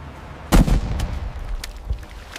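Mortar fire and impacts in a wartime setting: one heavy, booming blast with a rolling low rumble, followed by a few fainter, sharper distant thuds spread across the moment.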